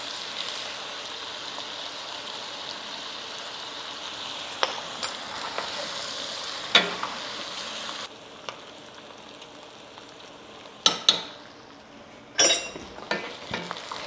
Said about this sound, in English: Okay, so we'll stir that flour in.